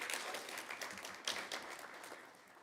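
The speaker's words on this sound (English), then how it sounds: "A round of applause to all the nominees" Audience clapping for nominees at a sport awards nominee announcement, a short, fairly faint burst of scattered clapping from a modest crowd, with a few sharper claps standing out.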